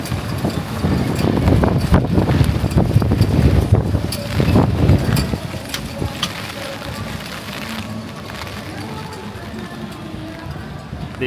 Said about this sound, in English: Ooh, look at that wind.